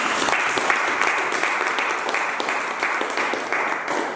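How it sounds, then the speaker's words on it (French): A church congregation bursts into loud, sustained applause, many hands clapping densely together from a moderate distance for the whole stretch. "Acclamez-nous, acclamez-nous."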